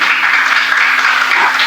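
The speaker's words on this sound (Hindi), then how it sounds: "फिर भी बज रही ताली।" Steady, dense applause from an audience gathered for a Jain monk's spiritual discourse, a continuous wash of many hands clapping close by with no pauses and no voices over it.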